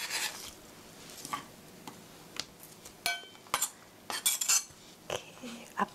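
A knife cutting cabbage on a board for an omelette, a series of quiet, irregular taps and clicks from the blade, with a quick flurry of cuts near the end, close and alone.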